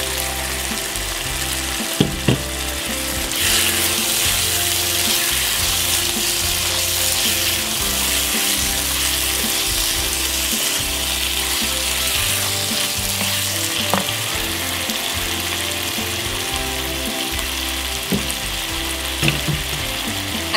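Potato chicken curry with tomatoes and coriander powder sizzles steadily in a pan, a dense continuous frying hiss with occasional stirring clicks and scrapes, close and fairly loud with no talking.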